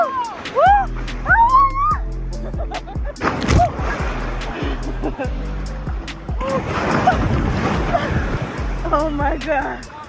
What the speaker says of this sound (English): These waves are no joke right now.